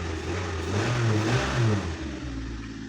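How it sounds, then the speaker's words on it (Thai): A car engine runs near and fairly loud after being restarted, with its pitch rising and falling as it revs briefly. "เห็นไหมครับแป๊บเดียว สตาร์ทได้เหมือนกันนะครับ"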